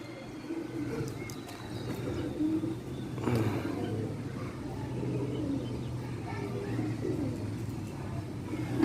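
Low, rolling coos from pet pigeons at a Karachi pigeon-flying rooftop fill the air steadily, with moderate volume and a faint rise of background noise midway.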